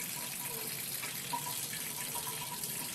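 Water pours in a steady, continuous stream into a measuring cylinder, a close, even trickling splash with no talking.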